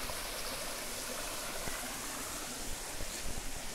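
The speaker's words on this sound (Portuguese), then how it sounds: "Vamos descer aqui mais abaixo, mostrar mais para vocês a cachoeira." Water from a waterfall and stream flows beside a small pool in a forest creek, making a constant, even rushing hiss that stays steady throughout with nothing else standing out.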